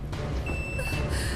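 An alarm beeps in a repeated electronic tone over a rumbling low engine-like background, loud and close, with no talk during it.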